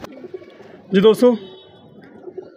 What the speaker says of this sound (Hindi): ये देखें जैसा कि मैंने बताया था छत वाले जो कबूतर हैं